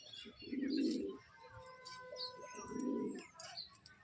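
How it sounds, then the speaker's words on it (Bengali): Newly bought racing pigeons shut inside a cage give two soft, rolling coos close by, separated by a short pause, with faint chirps and background noise around them. "এই পায়রা কটা নতুন নিয়ে এসছি খাঁচার ভিতরে আটকানো আছে"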